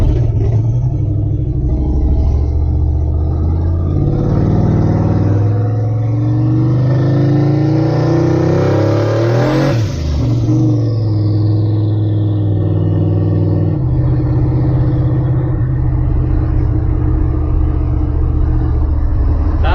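A Chevrolet C10 pickup truck runs continuously on a drive, its engine a loud, close, steady rumble with shifting revs and a brief swell near the middle, no voices over it.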